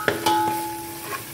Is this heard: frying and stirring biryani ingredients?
yes